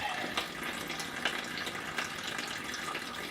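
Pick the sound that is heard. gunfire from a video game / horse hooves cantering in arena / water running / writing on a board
water running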